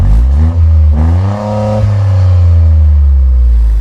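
A Toyota GR Corolla's three-cylinder turbocharged engine revs hard, climbing in pitch, dropping back and holding a loud, steady drone, close up with no talking.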